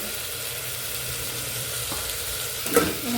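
Egg curry fries in a pan with a soft, even sizzle throughout, a single louder clatter near the end; fairly quiet and free of speech.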